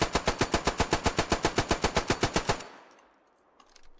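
A Danish-made Madsen light machine gun from World War I firing one sustained burst of about twenty rapid, evenly spaced, loud shots, then stopping, leaving faint echo and quiet background.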